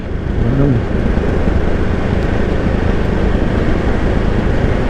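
A 2024 Ducati Hypermotard 698 Mono single-cylinder motorcycle ridden in sport mode on an open road, heard as a loud, steady engine and wind roar that holds constant throughout, with no talking.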